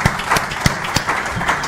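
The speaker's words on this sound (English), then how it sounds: "I'd like to give a warm applause to them." Conference audience at a mobile health panel applauding the speakers: a brief smattering of separate, fairly close hand claps with irregular gaps, sparse rather than a full ovation.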